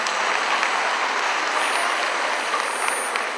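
Audience applause for actors at a Greek stage play about Kapetan Diplas, a dense, steady wash of many clapping hands at close range that holds evenly throughout without voices.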